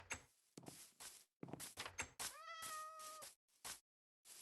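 A Minecraft cat lets out a clear meow amid a village scene, with door sounds opening and closing in short bursts around it.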